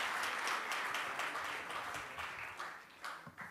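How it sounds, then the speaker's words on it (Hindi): An audience at a Hindi seminar and song program marking a poet-lyricist's birth centenary gives continuous, fairly faint applause throughout, heard from a distance in a hall. "जोरदार तालियों से हम उनका स्वागत करें।"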